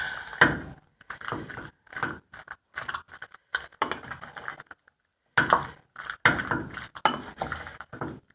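Mac and cheese pasta being stirred with white sauce in a pot: wet, sticky smacking and squelching in irregular bursts with short pauses, close and moderately loud.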